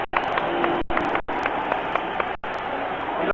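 A boxing arena crowd applauds as former welterweight champion Carlos Palomino enters the ring. The applause and cheering are loud and sustained, with a few brief dropouts, and no one speaks.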